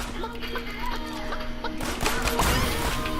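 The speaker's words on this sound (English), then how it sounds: "Come on, kill the chicken." A chicken clucks in the Realm Royale video game, short clucks set against a dense, steady bed of game ambience and effects, with a crash-like burst near the end.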